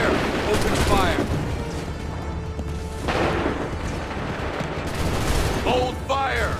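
Volleys of musket gunfire crack and roll in the Assassin's Creed III video game, loud bursts layered amid shouted battlefield voices and a dense, boomy din.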